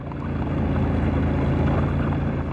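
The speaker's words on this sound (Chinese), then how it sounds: "我们乘坐雪地摩托" A snowmobile rides through falling snow and wind across the Kalajun grassland in Tekes County, Ili. Its engine gives a steady, loud, close drone that holds unbroken throughout.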